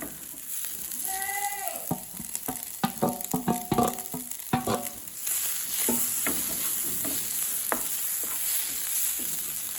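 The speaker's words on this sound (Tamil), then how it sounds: "அதுக்குள்ளே நாங்கள் முட்டையும் போட போகிறோம் பாருங்க" Eggs go into a hot pan for egg kottu, with stirring clatter and a steady sizzle of frying that turns continuous in the second half, fairly close and loud, with no talk.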